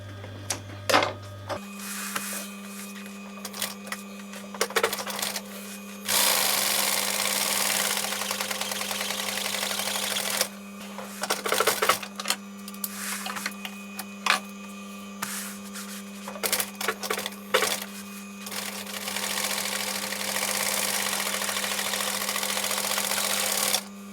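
Sewing machine stitching a seam through camper cushion fabric, running in bursts of steady whirring stitches with brief pauses between runs, close and fairly loud over a constant electrical hum.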